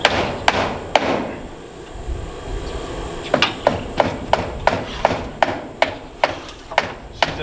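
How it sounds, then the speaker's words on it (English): Sharp, loud hammer strikes while installing gutter fascia on a house, an irregular run of blows near the start, then a steady rhythmic series of evenly spaced hits. "Not holding the hammer up top."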